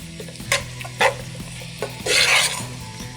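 Insta Mac macaroni is stirred into sautéed capsicum and cabbage in a pan, with close, loud scraping strokes and clinks over a steady sizzle, ending in a longer rasping scrape.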